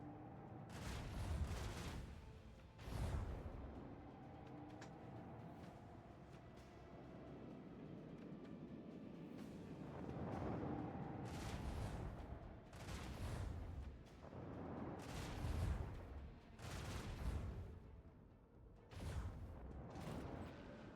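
Torpedo fire in the Warhammer 40k Rogue Trader video game: repeated loud booming blasts and rumbling impacts, roughly every couple of seconds, over a continuous low mechanical drone.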